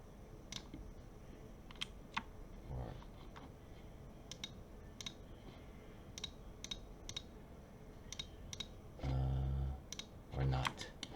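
Computer keyboard keys and mouse buttons click in short, sharp taps spread through a 3D modeling session, close and fairly quiet, with a few soft thumps and a person talking in between.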